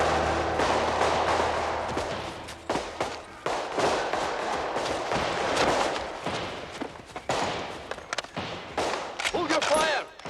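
Gunfire crackles through a period drama scene, a dense run of sharp, repeated shots and bursts lasting throughout, loud and close, with voices mixed in around the volleys.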